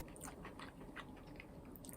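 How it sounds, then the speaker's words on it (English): Crunchy bean sprouts being chewed in a mouthful of liver and chives stir-fry, with steady close-up crunching and mastication that is moderately loud, continues over two seconds without any talk. "The bean sprout is still crunchy."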